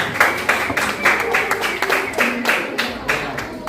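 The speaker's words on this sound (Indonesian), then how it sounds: "Kita beri aplaus dulu terkait dengan presentasi dari kelompok." Classroom applause for a student group's presentation during a teaching session: scattered hand claps from a small group, mid-distance and uneven, running steadily with bursts of sharper claps and some faint background chatter.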